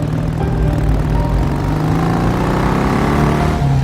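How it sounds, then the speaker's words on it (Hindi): A car engine drones steadily in the Granny Chapter 2 horror game, its pitch slowly shifting as the vehicle draws closer, loud and continuous with no talk. "ये गाड़ी की आवाज कैसी है, लगता है कोई आ रहा है।"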